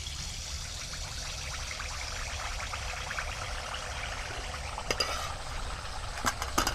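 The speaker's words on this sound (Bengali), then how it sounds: "তেলটা গরম হয়ে গেছে, আর ব্যাটারটা দেওয়ার আগে একবার এইভাবে ঘুলে নিতে হবে।" Pakwan pitha batter of ripe palm fruit being stirred beside hot oil in a pan, a soft continuous sizzle with faint scraping and a few light clinks of the utensil near the end.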